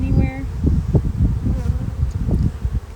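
Honeybees buzzing on a hive frame during queen rearing, a dense low hum of many insects close by, with rustling and handling noises mixed in throughout.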